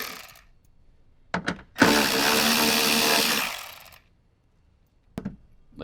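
A power tool whirs briefly twice, then runs in a loud sustained burst of about two seconds while backing bolts out of a Toyota 4Runner speaker mount, followed by quiet and a couple of short clicks of handling.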